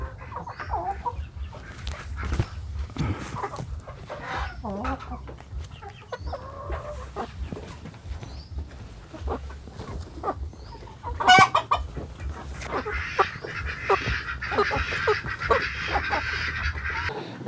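A flock of chickens clucks and squawks continuously at close range, with overlapping calls of varying loudness and a sharp louder cry partway through, over a busy coop background.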